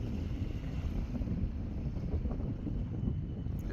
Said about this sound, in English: I think it's just the wind.